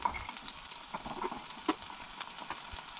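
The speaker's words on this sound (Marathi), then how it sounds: "सगळे आले लसूण, कांदो, मिरसांगे, कांदो बीन न्हय आमी भाजून घेतलो" Ginger, garlic, onion and green chilies frying in a pan, a faint, steady sizzle with a few soft crackles and stirring taps over the short stretch.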